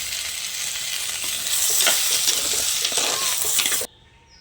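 Cleaned dried mathi fish drops into a hot pan and fries with loud, crackling sizzling that swells as it is stirred, then cuts off abruptly near the end.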